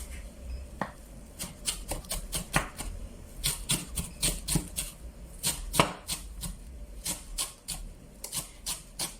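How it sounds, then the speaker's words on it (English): Knife chopping the flavorful crab part very finely for a Durban-style crab curry, a quick run of sharp, close taps on a board, irregular and steady, with no talking. "So what I do is I chop it very, very, very tiny."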